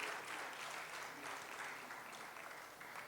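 An audience claps continuously at a spiritual discourse gathering in India, a dense, steady wash of applause sustained throughout with no voices over it.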